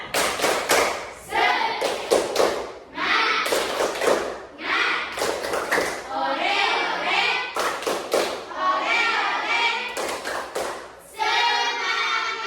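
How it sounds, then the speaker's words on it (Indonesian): A fifth-grade classroom of children performs a rhythmic spirit clap. Bursts of unison clapping alternate with loud chanted voices in a brisk, repeating pattern, close by. "Tepuk semangat"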